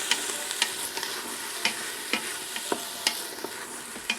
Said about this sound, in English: So let's continue sauteing.